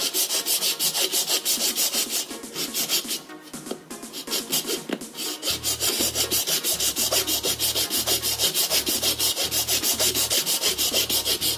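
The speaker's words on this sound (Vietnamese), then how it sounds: "Các bạn dùng cái cưa sắt á các bạn cưa nó dễ, nó mịn hơn." A fine-toothed hacksaw cuts through a dry coconut shell being made into a water ladle, rapid rhythmic back-and-forth rasping strokes, close and loud, continuing steadily throughout.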